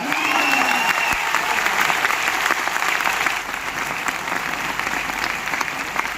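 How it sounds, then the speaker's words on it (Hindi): Audience applause in a hall during a motivational talk, dense, loud clapping that continues steadily for several seconds with little else. "ताली बजाओ जो आज पकड़ के हाथ में ले गया"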